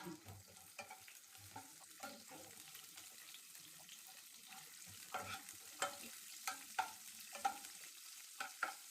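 Quiet sizzling of tempering spices frying in oil in a pan, with scattered stirring scrapes and small pops, growing a little busier toward the end.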